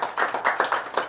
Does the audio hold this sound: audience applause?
yes